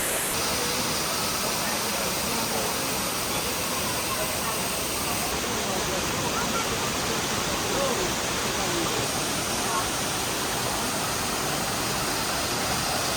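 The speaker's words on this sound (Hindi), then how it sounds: "तो काफ़ी प्यारा हमने ये वाटरफॉल देखा भागसू नाग का" Bhagsu Nag waterfall near McLeodganj pours down in a steady, dense roar of falling water, close and continuous throughout with no break.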